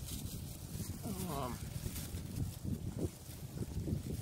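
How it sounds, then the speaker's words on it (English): Wind gusts outdoors buffet the microphone during kite flying, producing a continuous low rumbling roar with faint voices murmuring underneath. "It's windy out here."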